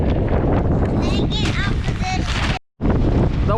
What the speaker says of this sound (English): The wind's picking up again.